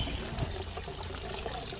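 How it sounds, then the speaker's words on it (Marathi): Tap water runs steadily from a kitchen faucet, a close, continuous splashing trickle with no pauses. "नळाला पाणी सुटलंय मस्तपैकी."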